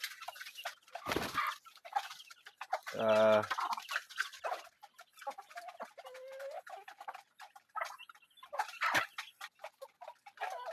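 Hungry white chickens cluck and squawk while feeding on a farm, close and intermittent, with one loud rapid burst of calls and scattered pecking sounds in between.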